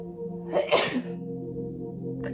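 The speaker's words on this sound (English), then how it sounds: "We'll have to sneeze." A single sharp sneeze bursts out near the microphone over a steady low hum, then the background settles back to quiet.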